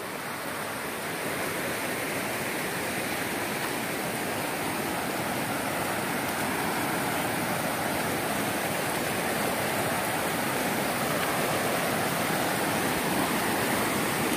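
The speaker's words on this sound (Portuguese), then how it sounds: "Um bocado d'água desce por aqui." Rushing water pours steadily down a stream, a broad constant hiss and burble, close and loud, with no voices.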